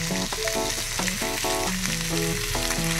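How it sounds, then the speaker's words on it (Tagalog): Corned beef fries with garlic and onion in a pan, giving a steady, loud, continuous sizzle with clattering stirring knocks throughout. "Ito guys, hulog na natin ating corned beef."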